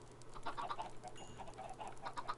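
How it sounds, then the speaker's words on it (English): Flock of chickens in a video game clucking in quick, overlapping bursts, a steady busy chatter of many birds close by with no talk over it. "I've got like 30 chickens following me"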